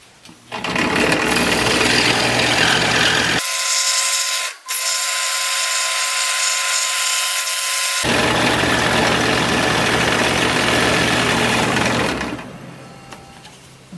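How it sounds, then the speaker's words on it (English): A power saw cuts out a wooden base, buzzing loudly in two long bursts split by a brief pause with a sharp click, then trailing off to quiet near the end; no voices. "Alright, let's cut out our base here now."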